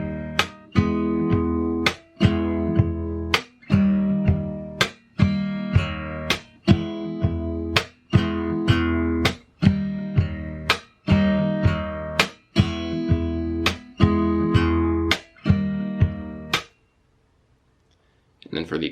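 Fingerstyle acoustic guitar playing the chords of an arrangement, with sharp percussive slaps on the body marking a steady rhythm, close and loud before stopping into near silence.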